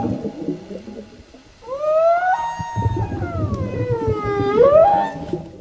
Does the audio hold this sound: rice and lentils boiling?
no